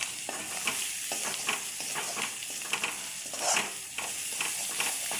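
An onion and cabbage curry is stirred in a pan, soft repeated scraping and rustling strokes over a gentle continuous sizzle, heard close with no speech.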